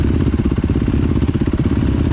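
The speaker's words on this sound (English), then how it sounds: "you probably hear my bike going ring, ring, ring" A Yamaha YZ250FX dirt bike engine revs hard and close on a rough, rolling enduro trail, with a fast, steady, throbbing pulse that runs for about two seconds.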